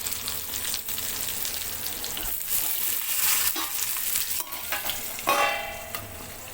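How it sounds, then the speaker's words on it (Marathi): Green chillies fry in hot oil with a continuous bright sizzle, close and steady, broken by a few stirring scrapes and clinks near the end. "याच तेलामध्ये आपण मिरची असं फ्राय करून घेणार आहोत."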